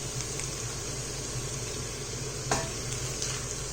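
Kidney beans are stirred into red enchilada sauce in a hot pan, a soft, steady sizzle with gentle stirring and one louder scrape of the utensil midway.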